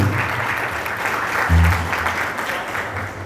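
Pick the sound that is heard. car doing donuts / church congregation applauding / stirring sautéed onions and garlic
church congregation applauding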